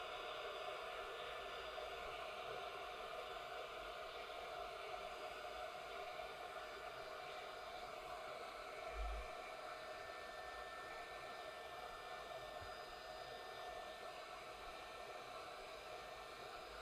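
A hot air tool blows steadily onto a ZX Spectrum-style circuit board heated toward 130 degrees Celsius, a constant broadband whooshing hiss that runs unbroken throughout at moderate, even level with no talking.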